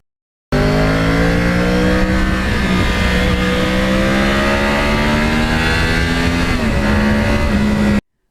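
A Yamaha R1 crossplane motorcycle with a quiet exhaust rumbles loudly and continuously up close, its engine note rising and falling through steady revs with a deep, throbbing drone.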